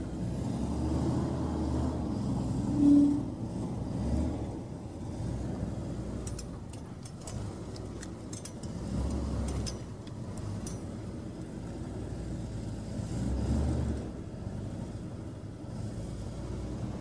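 Crank-started vintage Dodge car pulling away in first gear, a low, soft engine rumble that swells and fades in waves, with a brief cluster of faint clicks partway through.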